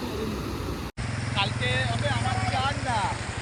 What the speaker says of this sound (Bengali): এবার বাইক নিয়ে যাচ্ছে আমি দেখলাম